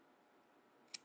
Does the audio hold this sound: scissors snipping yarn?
yes